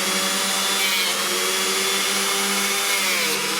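A Dremel rotary tool grinds a dog's nail, a loud, steady high-pitched motor whine that holds continuously with slight shifts in pitch as the bit contacts the nail.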